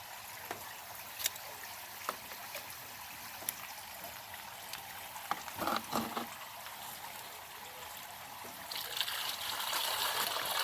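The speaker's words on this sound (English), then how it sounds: "So that's the sieving process going on." Daphnia are sieved in water, giving a quiet trickling and sloshing with scattered small splashes and clicks, a brief louder rinse midway, and running water building toward the end.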